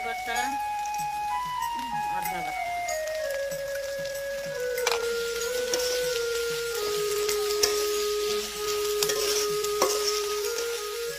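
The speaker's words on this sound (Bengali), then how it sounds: "মশলাপাতির মিশ্রণ নেড়েচেড়ে কিছুটা কষানোর পর" Whole cardamom, cinnamon and cloves are stirred and fried in a pan, a soft continuous sizzle with scraping stirs, under a sustained melodic tone and occasional ticks.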